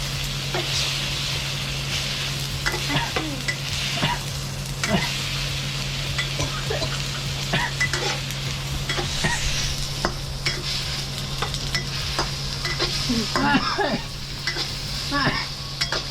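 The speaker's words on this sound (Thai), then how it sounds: "กวนกวนกวน" Eggs fry in a hot pan for a Chinese-style tomato and egg stir-fry while a utensil stirs and scrapes through them. Steady sizzling runs underneath, with frequent clinks and scrapes close by and no talking.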